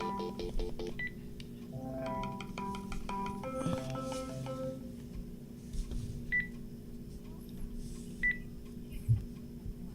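Telephone keypad tones sound as a number is dialed to call someone back, a quick run of short beeps followed by a few more spaced tones over a low hum of line noise.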